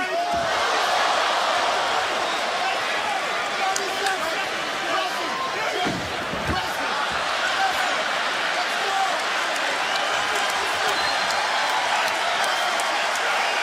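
A UFC arena crowd roars steadily through the closing seconds of a Pettis versus Miller bout, a dense, continuous wash of cheering with commentators talking over it.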